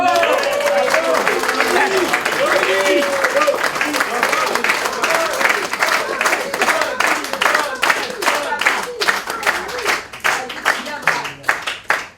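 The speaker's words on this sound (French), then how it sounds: "je vous demande une petite standing ovation." A live audience breaks into sustained applause and clapping for a standing ovation at an anniversary ceremony, dense and steady throughout with some voices and cheers mixed in, tapering slightly toward the end.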